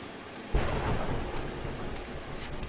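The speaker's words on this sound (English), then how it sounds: "Jeez, that thunderstorm." A thunderstorm in the online game Final Fantasy XIV, a sudden thunder crack followed by a long rolling rumble over steady rain, loud and close with no talk.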